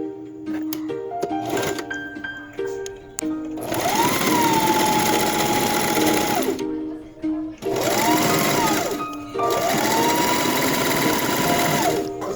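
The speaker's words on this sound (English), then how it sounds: "Now all we got to do is sew everything together." Sewing machine stitching a wrap top, loud rapid mechanical whirring in long bursts separated by brief pauses, close up, with background music and a voice in the opening seconds.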